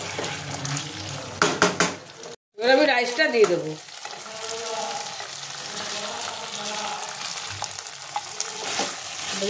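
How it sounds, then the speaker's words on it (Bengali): Rice stirred into fully cooked chicken in a pan for chilli garlic rice, a scraping, sizzling stir with clattering strokes early, a brief gap, then steady frying hiss continuing close by. "ভালো করে আমি মেশাবো।"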